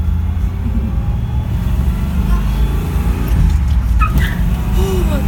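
1957 Pontiac street rod with a 421 engine pulling away from a start in third gear, a loud, close, steady low engine rumble heard from inside the car, with brief faint sounds over it near the end.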